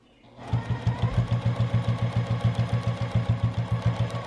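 Sewing machine stitching a knitting supply caddy, starting up and then running at a steady, fast, rhythmic needle clatter, close and fairly loud.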